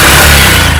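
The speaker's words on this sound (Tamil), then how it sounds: "first engine sound" Honda Shine BS6 motorcycle engine running at idle, a loud, steady low hum with an even tone, recorded close with no voices.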